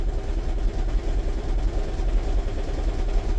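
Steady nearby running of a 2009 Toyota Prius 1.5 hybrid's 1.5-litre engine, low humming idle with a faint clattering rattle throughout and no speech.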